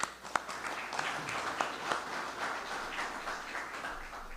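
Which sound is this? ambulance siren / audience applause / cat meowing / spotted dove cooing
audience applause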